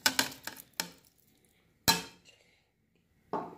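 Fish added to a cooking pot for kizaca de peixe, a few sharp metallic clinks and knocks against the pot, close and spaced out with quiet gaps between them.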